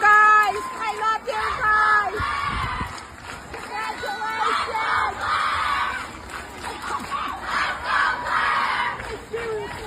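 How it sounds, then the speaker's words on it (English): A school crowd of children claps and cheers for a 93-year-old woman named Claire, loud excited shouting and whooping in waves over clapping, with voices calling out throughout. "Their clap out for 93-year-old Claire."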